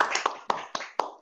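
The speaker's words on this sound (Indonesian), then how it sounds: "kasih tepuk tangan dong buat Mas Widyo" Applause for Mas Widyo at a virtual Christmas service for law alumni, a few sparse, separate claps roughly every quarter second, close and crisp, from only one or two people.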